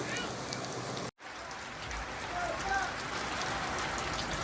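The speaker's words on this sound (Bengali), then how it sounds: "কত সুন্দর বৃষ্টি পড়ছে" Steady rain pours down in a dense, even hiss, with a brief drop-out near the start before the downpour continues.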